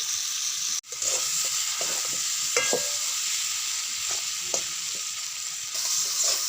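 Chicken curry with fried potatoes sizzles steadily in hot oil, a continuous bright crackle with scattered soft scrapes of stirring, close and alone without talk, one brief dropout near the start.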